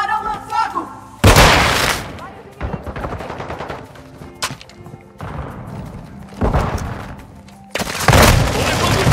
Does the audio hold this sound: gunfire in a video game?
yes